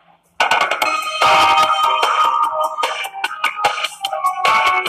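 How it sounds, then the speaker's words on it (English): Phone notification sounds go off repeatedly, a dense, loud run of overlapping chimes and tones that starts abruptly and keeps going, with no talking. "my notifications go like crazy"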